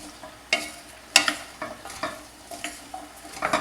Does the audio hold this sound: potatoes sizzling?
yes